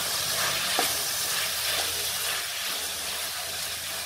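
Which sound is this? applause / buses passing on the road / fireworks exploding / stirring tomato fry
stirring tomato fry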